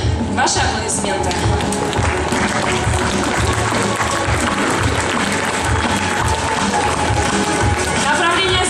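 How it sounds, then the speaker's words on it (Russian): A concert hall audience at a dance show applauds loudly and continuously, a dense sustained wash of clapping with scattered cheers and tapping throughout. "Сюкина Ксения, ваши аплодисменты"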